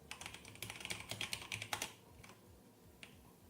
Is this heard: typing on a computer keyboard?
yes